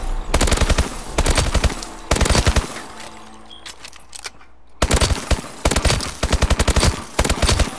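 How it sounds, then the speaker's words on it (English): SN6 submachine gun in Call of Duty: Advanced Warfare firing in loud, rapid automatic bursts, several separate strings of shots split by short pauses, close and dominant. "SN6, my second favorite weapon."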